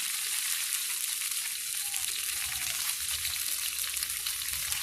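Shrimp and vegetables stir-frying in a hot pan, a steady broad sizzle with faint stirring scrapes running continuously, close and alone without voices.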